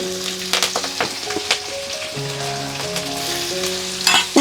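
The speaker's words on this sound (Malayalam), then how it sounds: "ഇഞ്ചി ഒന്ന് ചൂടായി വരുമ്പോഴത്തേക്ക് അതിലോട്ട് വെളുത്തുള്ളി ഇടുവാണേ." Garlic and ginger frying together in hot oil, a continuous moderate sizzle with intermittent clicks of stirring and a few sharper crackles toward the end, no talking.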